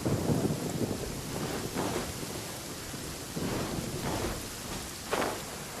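Steady rain pours in Genshin Impact, a dense wash of hiss and patter that carries through the whole stretch with soft swells and a few faint rumbles, no voices over it.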